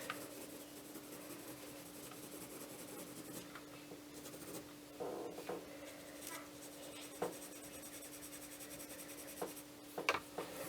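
Derwent watercolour pencils scratch and rub across paper as blue is layered on a drawing of a leafy seadragon, a faint, steady close-up scraping with occasional light taps beneath a low electrical hum.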